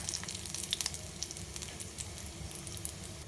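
Asafoetida dropped into hot ghee with cumin already fried in it, producing a quiet, crackling sizzle with scattered sharp pops close by and no voices.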